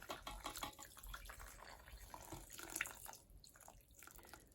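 A 250 ml cup of warm water pours steadily into a mixture with a soft, splashy trickle for a few seconds, quiet and close, before tapering off.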